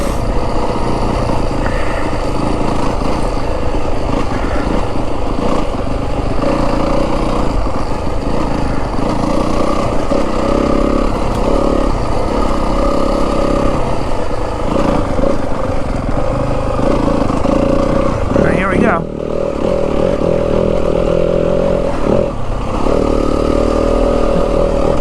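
A 2025 Yamaha WR250F dirt bike engine snarls continuously on rocky desert trails and sand washes in Arizona's Santa Rita Mountains, revving up and down with throttle changes, close and loud throughout.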